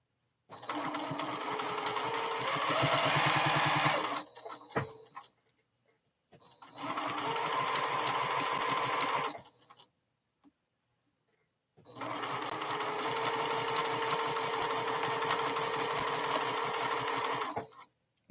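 A sewing machine stitches a quilted bear pattern in three long runs of rapid, buzzing stitching, separated by short pauses with small clicks and handling noises.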